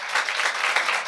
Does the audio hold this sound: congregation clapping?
yes